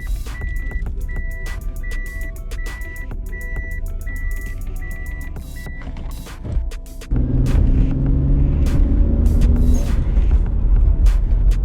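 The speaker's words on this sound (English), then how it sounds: "Car seems to be idling normal." A Toyota Aristo with a 2JZ engine idles steadily at close range while a repeating electronic beep chimes over it, then the engine note thickens and grows louder partway through.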